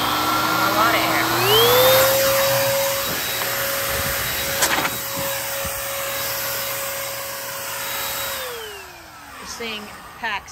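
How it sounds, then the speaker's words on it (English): A small Minivan 37 variable-speed mini car dryer blows air at close range, its motor whine rising in pitch as it speeds up, holding steady, then winding back down. "I'm also gonna be using the mini car dryer from Minivan 37."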